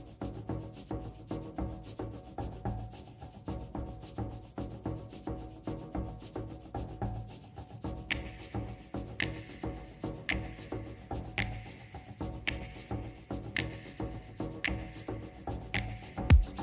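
Handling noise on a Comica wireless microphone, continuous rubbing and scuffing with rhythmic tapping thumps in the second half, close and fairly quiet with no talk.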